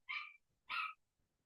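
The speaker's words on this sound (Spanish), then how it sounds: "empezó a ladrar mi perro" A dog barks twice in quick succession, faint and somewhat distant, indoors with short sharp barks and little else around.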